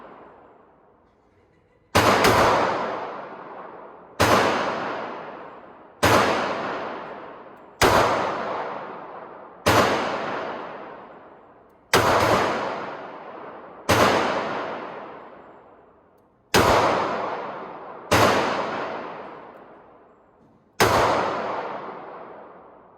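A Smith & Wesson J-frame revolver fires at a shooting range: about nine loud, close single shots spaced roughly two seconds apart, each cracking sharply and then fading into a ringing decay before the next.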